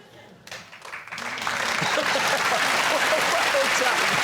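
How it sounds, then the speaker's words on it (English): A studio audience of a comedy panel show breaks into applause that swells within a second and holds steady, loud and dense, with a voice briefly heard at the start. "What are they clapping?"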